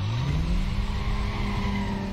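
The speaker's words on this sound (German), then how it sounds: "Sie kommt auf jeden Fall mit einem Mercedes angerast." A Mercedes in the PS2 game Need for Speed Most Wanted roars close by, its engine climbing in pitch as tires squeal during a hard racing start, continuous and loud with no speech.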